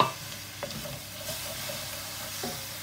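Lemon juice hitting a hot pan with prawns, courgette and dill, giving a steady close sizzle and hiss with occasional stirring scrapes.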